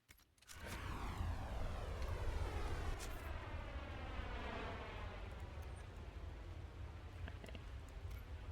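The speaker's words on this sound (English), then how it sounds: "Sounds like a plane landing." A loud, sustained roaring whoosh from Dragon Age: Inquisition, resembling a plane coming in to land, with descending sweeping tones over a steady rumble that holds for several seconds, no talking.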